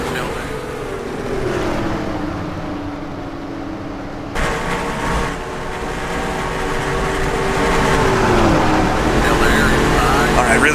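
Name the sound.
NASCAR modified race car engines, video game NR2003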